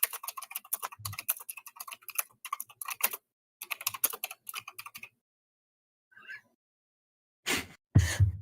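Bursts of typing on a computer keyboard, fast clattery keystrokes in close clusters broken by pauses, then a couple of louder isolated clacks at the end.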